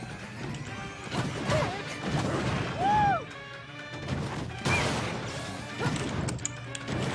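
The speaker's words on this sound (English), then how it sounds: "the sound effect of her KOing a fucking truck is pretty good" Repeated heavy crashing impacts from a video game punch smashing a truck, several loud smashes and thwacks in quick succession, with faint speech underneath.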